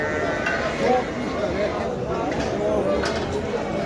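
Sheep bleat now and then at a Turkish livestock market of sacrificial animals, heard under steady talk from people bargaining nearby, with a busy crowd murmur throughout.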